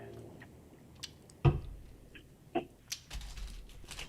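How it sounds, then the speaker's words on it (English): Quiet crunching and chewing of chicken nuggets with barbecue sauce, Dorito chips and guacamole: a few sharp, close bites and soft squishy chews, with short silent gaps between them. "I've been eating this whole time."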